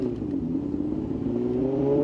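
A Ferrari Testarossa engine revs steadily and loudly up close, a continuous throaty roar that rises slightly in pitch toward the end, with no talking over it.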